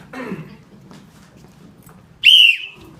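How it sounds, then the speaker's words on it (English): A single short, shrill blast of a sporting whistle sounds near the end, loud and close after a stretch of quiet in a stage play setting. "that's not a police whistle, it's a sporting whistle"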